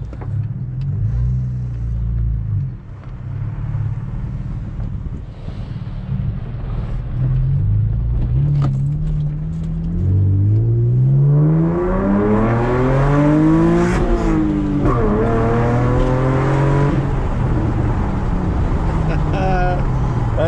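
A V6 Camaro with its muffler deleted idles with a deep, lumpy exhaust rumble, then revs hard several times in rising and falling sweeps, loud and close, with voices talking over parts of it.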